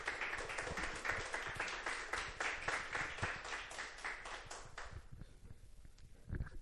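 A church congregation applauds during an evening worship service, a dense run of close, lively clapping that thins out and fades toward the end.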